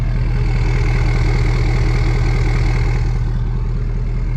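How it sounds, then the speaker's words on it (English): A truck with a straight pipe exhaust idles close by, its engine giving a steady, loud, low rumble with an even throb that holds unchanged throughout, with no voices. "I left the truck running just so I could show you this real quick."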